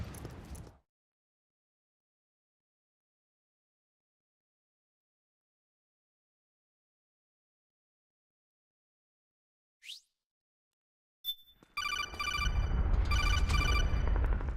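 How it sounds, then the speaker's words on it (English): A phone rings with a repeating electronic ringtone during Metal Gear Solid 4: Guns of the Patriots, heard loud and close after a long stretch of near silence and a brief earlier chirp. "Not even one step out the door, getting a phone call."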